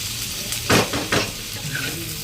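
Curry masala roasting in a pan for mutton curry, a steady sizzle broken by two quick scrapes of a spoon stirring.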